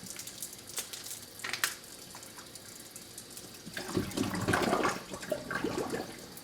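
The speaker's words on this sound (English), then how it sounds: "I'm just pouring these" Grape drink pouring into a container, a soft, faint liquid trickle that swells into a fuller splashing stream toward the end, with no talking.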